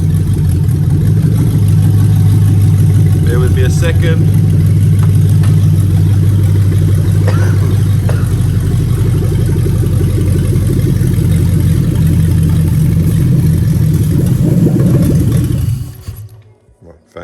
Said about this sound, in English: I'm just going to kill the fuel to get the engine to die without turning the ignition off.